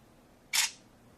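A camera phone with a trackball plays a single short, crisp shutter click when a picture is taken, set against a quiet background.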